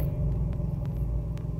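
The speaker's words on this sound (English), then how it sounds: "that was a big thunder" Thunder rumbling in the indie horror game The Hospital, a deep, continuous low roll that holds steady throughout, fairly loud with no talk over it.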